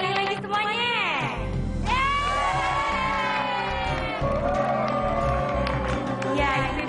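A children's debate show audience cheering, shouting and whooping together after a debate, loud and continuous, with high young voices rising over the crowd and a voice speaking through it.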